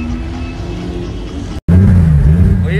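A drift car heads out to qualifying at the RDS GP, its engine giving a loud, steady low rumble close by. The rumble cuts out for a moment, then returns heavier and fuller.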